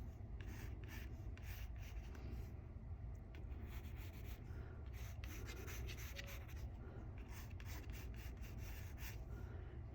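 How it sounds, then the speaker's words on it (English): Pen or pencil scratching steadily on paper while a caricature's headband is drawn, soft continuous rubbing strokes at close range against a low constant room rumble. "what I'm gonna do is draw the headband real quick"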